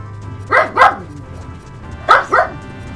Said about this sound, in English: I gotta get my dog to be quiet.